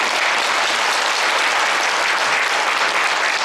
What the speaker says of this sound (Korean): 앞날의 건승을 기원하는 의미에서 큰 박수를 보내주시면 감사하겠습니다.